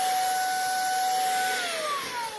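A Brigii M1 handheld vacuum cleaner runs close by with a loud, steady whine whose pitch drops slightly near the end, without any talking.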